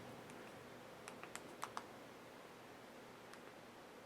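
Light typing on a computer keyboard, a brief burst of several soft key clicks followed by a single stray tap, faint against a quiet room hum.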